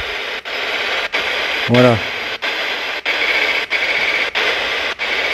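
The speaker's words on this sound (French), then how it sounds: "Donc ça c'est la Ghost Box." A ghost box radio sweeps through stations during a paranormal investigation in an abandoned factory, a loud continuous hiss chopped by regular clicks and dropouts, with a brief tonal burst and a short spoken word.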